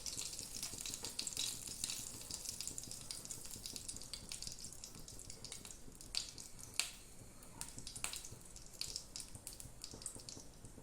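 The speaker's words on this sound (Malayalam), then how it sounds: "എണ്ണ ചൂടായിട്ട് വരുമ്പോൾ ആദ്യം ഇടേണ്ടത് കടുക" Mustard seeds fry in hot oil in a pan for a Kerala erissery, giving a steady close sizzle with scattered sharp pops and crackles throughout and no talking.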